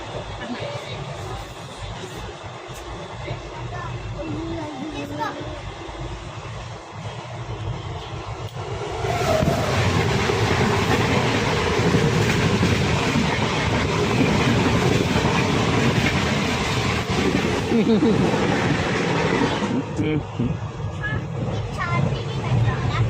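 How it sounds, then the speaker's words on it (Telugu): A train rumbles past nearby, its steady roar swelling loudly midway and holding for several seconds before easing, with people talking over it. "ఇంకో ట్రైన్ పోయింది కనుక."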